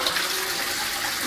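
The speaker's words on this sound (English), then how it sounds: "let's try a flush" A toilet flushes up close in a public restroom, a steady rushing gush of water filling the bowl without a break.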